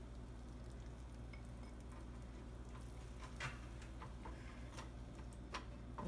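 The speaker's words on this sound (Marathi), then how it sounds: "आता आपण भात टाकून घेऊया." Cooked rice being stirred into tomato masala frying in oil makes a faint, steady sizzle broken by scattered soft taps and scrapes of the spoon.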